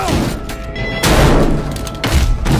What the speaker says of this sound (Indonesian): Bobo tiba dan menyelamatkan nyawa Kwon dengan melindas pria itu dengan mobilnya